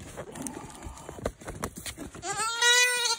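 Scuffling and handling noises give way to a single loud, wavering goat bleat near the end, close by and clear during goat maintenance work.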